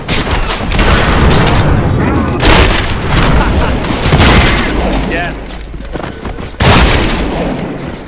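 Shotgun firing in the first-person shooter Trepang2, a series of heavy, booming blasts repeating every second or so amid dense game noise, with someone talking over the shots.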